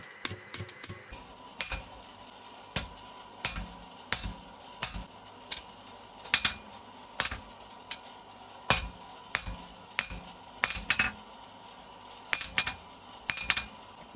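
Sharp metallic taps from a hammer striking forged metal for a dragon-shaped bottle opener, about a dozen spaced blows at an irregular but steady pace, some in quick pairs, close and clear.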